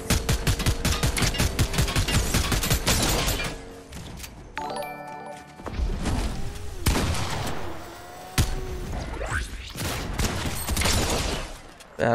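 Rapid gunfire bursts from the Fortnite video game, dense automatic fire and volleys up front, then a brief pause and scattered shots with clanks, loud and close throughout.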